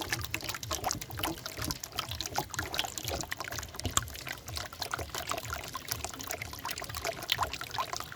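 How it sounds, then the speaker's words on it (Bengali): Soybean oil trickles and pours into a tandoori chicken marinade in a quiet, continuous stream with faint glugging flutters, close and soft, with no voices over it. "কমসে কম হাফ লিটারের মতো সয়াবিন তেল দিয়ে নেবেন।"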